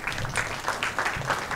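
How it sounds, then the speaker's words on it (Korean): Audience clapping at an investor session of a startup conference, a short, even burst of applause from a seated crowd filling the room at moderate volume. "큰 박수로 맞이해 주시기 바랍니다."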